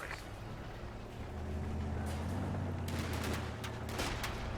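Machine gun and rifle fire in a city battle in the WWII strategy game Company of Heroes 2, with a string of sharp bursts crackling in the second half over a steady rumble of engines, fairly quiet and without speech.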